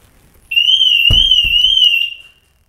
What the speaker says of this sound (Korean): 이 잠근 상태에서 실내에 어떤 움직임이 포착이 되면은 알람이 울리게 됩니다.